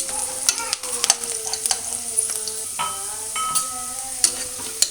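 Vegetable pulao base frying in a little oil until golden, with steady close sizzling and repeated sharp scrapes and clinks of a spoon stirring in the pan, no talk.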